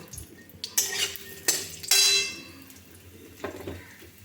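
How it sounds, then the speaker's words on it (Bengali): Cut potatoes tumble into a pan for pumpkin chhokka, with sharp metallic clangs and spoon scrapes against the pan as they are stirred, punctuated by a brief sizzle, close and intermittent in a quiet kitchen. "কেটে রাখা আলুগুলো দিয়ে দিলাম"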